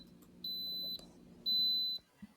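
A Luvele yogurt maker gives two steady high-pitched electronic beeps, each about half a second long, the second slightly louder, over a low background hum.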